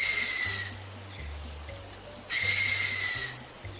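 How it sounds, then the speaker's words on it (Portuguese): A Brazilian pica-pau bufador woodpecker gives its breathy huffing call. Two loud, hissing puffs are separated by a quieter pause, heard alone and fairly close. "É o pica-pau bufador."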